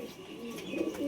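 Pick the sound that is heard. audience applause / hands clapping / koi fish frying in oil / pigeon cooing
pigeon cooing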